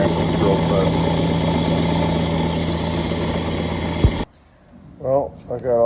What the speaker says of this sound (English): This is my grandpa's drill press.